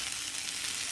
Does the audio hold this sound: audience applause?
no